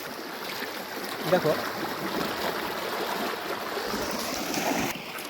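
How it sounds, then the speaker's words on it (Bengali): A strong current of a cold river rushes in a steady, broadband wash of flowing water, with a brief louder splash near the middle and a voice speaking over it. "জলের অসংখ্য স্রোত তুমি তো দেখলাই তোমরা।"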